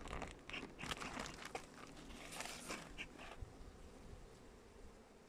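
Honeybees buzz from an opened six-frame hive in a dense, steady drone, close and fairly loud, with crinkling handling noises over the first few seconds before the hum settles alone.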